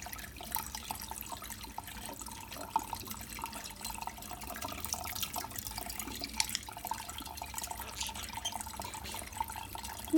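Tap water runs steadily into a bath for Tillie the pet bird, a continuous, fairly faint splashing stream with no talk over it.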